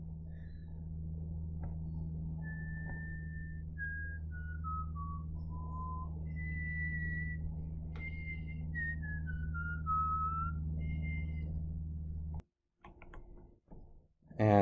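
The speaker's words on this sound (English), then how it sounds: "I'm going to whistle for a moment and then tell you the answer." A person whistling a slow, wandering tune of sustained and gliding notes over a steady low hum, close and fairly quiet, ending abruptly with a few clicks and handling noises.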